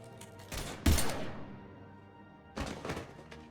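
Gunfire in Mass Effect 3, a sharp, heavy shot followed by a long ringing decay, then a second burst of thudding shots about two seconds later.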